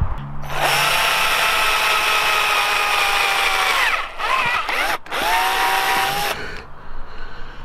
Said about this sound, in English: we're just going to drill using one of these big wide drill bits just through that top layer there